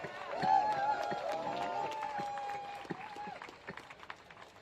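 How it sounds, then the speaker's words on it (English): Crowd at an anti-Trump protest rally in central Madrid applauding and cheering, a dense wash of clapping under shouting voices and a sustained whistle-like tone, fading somewhat toward the end. "Give yourselves a round of applause."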